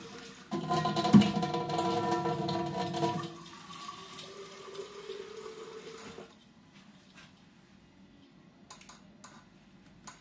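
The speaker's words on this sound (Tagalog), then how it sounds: "Lagyan kong tubig ko yan." Water poured into a tumbler: a loud, steady rushing pour for about three seconds, then a softer trickle that fades out, followed by a few faint handling clicks.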